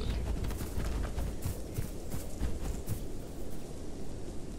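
A player dinosaur walks in a video game, its footsteps landing as repeated soft heavy thuds over a loud, continuous rumbling ambience.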